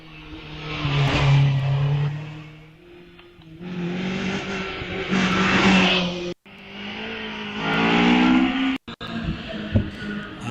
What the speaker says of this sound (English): As off the line goes the MGZR of Chris Bryant, 1400cc car this, heading up